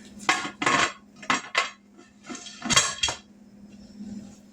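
A metal lid goes onto a canner loaded with jars of corn, several bright clanks and scrapes in short bursts, close and fairly loud, trailing off into quiet.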